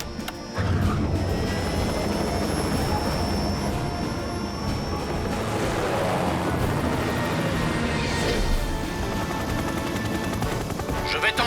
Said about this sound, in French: qui va pouvoir piloter l'hélicoptère?